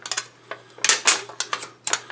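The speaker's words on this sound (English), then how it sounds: "punch you some holes in there" A hole punch bites through a thin aluminum beer can in a quick, irregular run of sharp, close metallic clicks and snaps, with brief pauses between punches.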